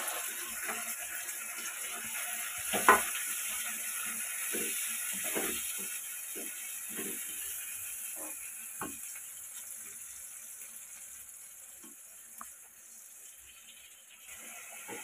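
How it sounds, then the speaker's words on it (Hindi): Masala fries in a pan with onions, giving a soft continuous sizzle and hiss. Faint scraping stir strokes and small clinks come and go over about fifteen seconds. "एबे आमे मसला पकेबा।"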